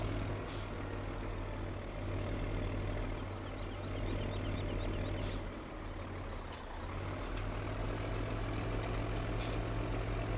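Oshkosh truck engine driving on a road in Farming Simulator, a loud steady engine drone with a high whine and brief hiss bursts, continuous and without talk.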